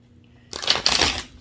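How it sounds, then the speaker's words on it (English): A deck of cards is shuffled up close, giving a quick, crisp riffling flurry that lasts under a second, alone in a quiet room. "I just want to make sure they're shuffled up good"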